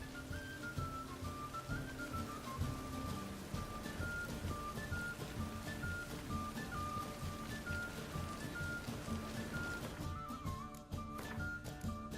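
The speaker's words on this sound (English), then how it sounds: "Rains. It pours." Steady rainfall in the video game The Witcher 3: Wild Hunt, a soft continuous hiss under a looping game music score that shifts near the end.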